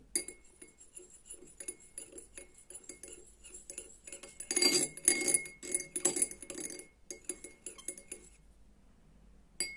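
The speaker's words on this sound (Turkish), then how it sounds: "Şimdi bunları farklı kaşıklarla karıştırıyorum" Several spoons stir and clink inside glasses of liquid, with scattered light taps at first and then a dense burst of rapid ringing chinks in the middle before things settle to a few faint clicks.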